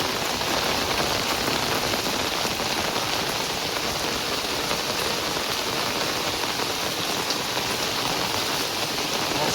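Steady rain patters densely on a hard surface, an even, constant hiss of drops with no pauses.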